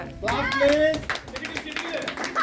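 A group of family and guests clap at a Telugu housewarming ceremony honouring the builder and his wife, a brief patter of hands heard close by beneath voices talking and a sung or drawn-out vocal phrase.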